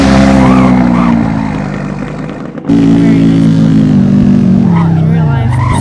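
Racing car engine revving loud and close in the Roblox game Driving Empire, a steady roar that dips briefly then returns with pitch sweeps, with talk over it.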